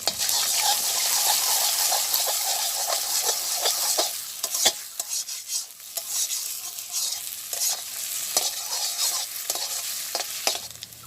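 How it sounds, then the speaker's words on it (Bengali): An egg sizzles in a hot pan as a spatula stirs and breaks it into a crumbly scramble in a village kitchen, with steady frying hiss and repeated scraping strokes that come and go. "ডিমটা ঝুরঝুরি করে ভাজি করব"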